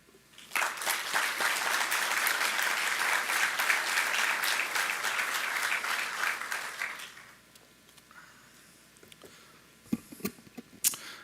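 An audience applauds at a white coat ceremony for a graduating physical therapy class. The clapping is dense and sustained for about seven seconds, then fades to a few scattered claps and small knocks.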